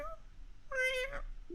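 A voice actor imitates a cat's meow for the Morgana character, a single short, close, tonal meow after a quiet pause.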